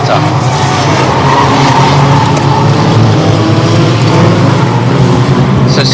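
Banger racing cars at Bovingdon Raceway roar around the track together in a loud, continuous engine din with tyre noise, with a commentator talking over it.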